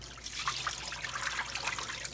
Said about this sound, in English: I'm just going to dump out the water